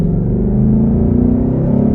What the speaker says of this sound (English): you still get a great sound from the engine, especially with the induction note